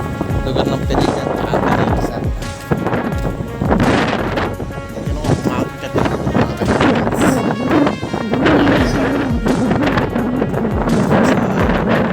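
Strong wind buffets the microphone in continuous loud gusts, a roaring rumble that swells and dips throughout.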